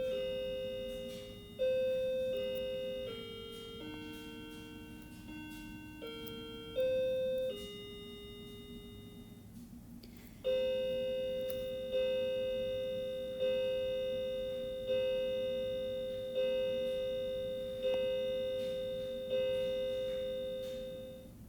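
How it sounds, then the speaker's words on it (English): A household chiming clock plays a series of clear, bright bell-like tones, first a short melodic phrase, then a pause and a steady run of eight evenly spaced strikes that ring and decay, fairly close and alone without talk. "Sorry, my clock is chiming."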